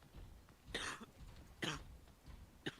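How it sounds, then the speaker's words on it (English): A few separate coughs from one person, three distinct bursts spaced about a second apart, fairly close and moderately loud over a faint background hum, with no talking. "Cough, cough, cough."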